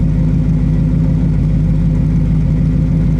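A 1957 Studebaker Golden Hawk resto-mod engine runs at a steady, loud idle close by, a dense low rumble with no voices over it.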